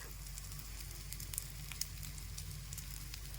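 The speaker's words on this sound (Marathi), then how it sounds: "थोडंसं तेल खालीही टाकू म्हणजे ते व्यवस्थित फ्राय होतील" Potatoes frying in a little oil in a pan over a medium gas flame give a steady, even sizzle with scattered small crackles throughout, with no voices.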